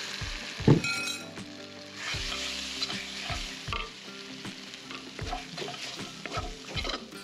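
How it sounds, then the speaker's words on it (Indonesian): Goat meat fries in a hot wok without oil, a loud crackling sizzle with metal clinks and the scrape of stirring at the start, then steady hissing and occasional taps. "Kita dah panaskan kuali, goreng dia tanpa minyak"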